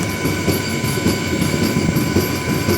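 A Rajahmundry–Bhimavaram MEMU train runs out from Kaldari station toward Tanuku, its carriage rumbling loudly and steadily with rhythmic wheel clatter on the rails, heard from inside.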